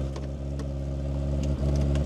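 A Suzuki Samurai's repaired engine idles at low speed, a steady low mechanical hum with faint ticking, continuous and close with no talking.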